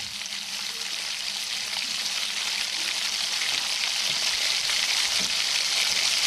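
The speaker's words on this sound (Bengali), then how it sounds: "একটা কড়াইতে তেল গরম করতে দিয়েছি, সেখানে তেলটা ভালো করে গরম হয়ে গেলে আমি এই নিমকিগুলো দিয়ে দেব।" Nimki frying in hot oil in a wok, a steady dense sizzle and bubbling hiss that holds evenly and grows slightly louder throughout, close up, with no speech.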